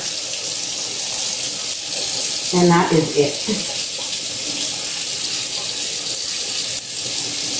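Hot water runs steadily from a sink tap while an aquarium is being cleaned, a continuous hiss and splash with brief spoken words partway through.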